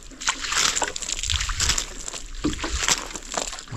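Water poured by hand onto a house wall under construction to cure it, sloshing and splashing in uneven bursts close by, sliding down the surface with a steady wet wash.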